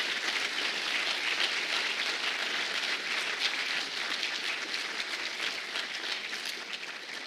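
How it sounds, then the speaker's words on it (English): Applause from the audience at a regional Congressional Gold Medal presentation in California's Central Valley, honoring the awardees: dense, steady clapping that fills the room without a break and thins slightly near the end. "How about another round of applause for today's Congressional Gold Medal awardees?"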